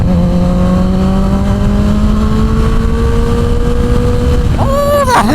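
A 2023 Kawasaki ZX10-R sportbike engine howls loud and close, pitch climbing steadily through a long pull, then a quick-shifter upshift and the revs rising again.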